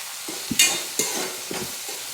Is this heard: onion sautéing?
yes